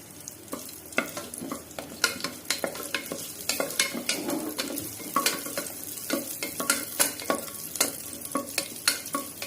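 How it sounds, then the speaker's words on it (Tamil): Cashews and grated coconut fry in hot ghee in a pan for a Kerala rice cake, a steady close sizzle broken by frequent scraping stirs with a spoon, with no talk. "நெய் காஞ்சிடுச்சுங்க முந்திரி போடுறேன் தேங்காய் போடுறேங்க நல்லா ப்ரௌன் கலராக ஆகட்டும்"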